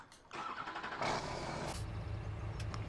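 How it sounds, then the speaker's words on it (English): A farm vehicle engine in the Farming Simulator 17 video game starts up and settles into a steady, rumbling idle, close and continuous with no talk. "We'll just leave it idling, because it does take so damn long to fire up."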